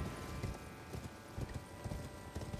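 Hooves clip-clop steadily at a quick trot as a horse moves through Elden Ring, the rhythmic thuds fairly faint under a hissing game ambience.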